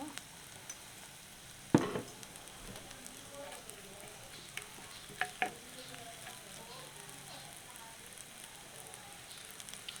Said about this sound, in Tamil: கொஞ்சம் பொரிக்க விட்டுட்டு எல்லாத்தையும் கலப்போம்.